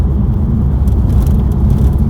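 A 2020 Mercedes-AMG GT R cruises along the road, its steady low engine and road rumble droning continuously and fairly loud, with no voices over it.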